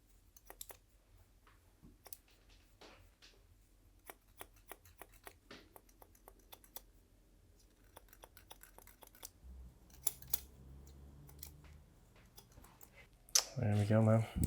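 Hair clipper fitted with a smaller comb cutting long hair, heard as soft intermittent clicks and brief buzzing bursts, fairly quiet and close, with a louder handling rustle near the end.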